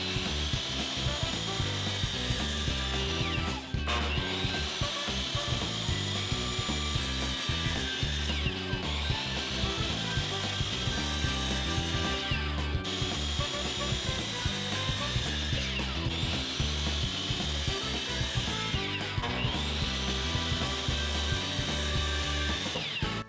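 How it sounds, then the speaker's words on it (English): A saw cuts wooden boards at a 30-degree angle against a stop block, loud and continuous, with the blade rising and falling in repeated passes every few seconds. "We can just push our board up and make our cuts."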